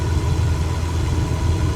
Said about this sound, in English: You can definitely hear the engine because obviously the door is not on a plane.